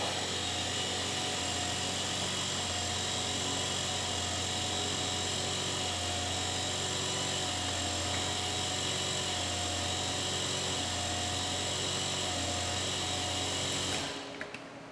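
Constant high-pitched whine and drone of a Bridgeport milling machine with an R8 spindle, running a 5-inch face mill on a light cleanup pass. The sound holds steady and loud for about fourteen seconds, then cuts off abruptly.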